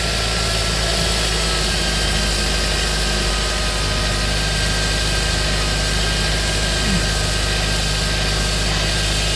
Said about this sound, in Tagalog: we have to wait for the engine to have the maximum operating temperature